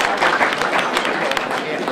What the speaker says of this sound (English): So let's give a rounding hand clap if we can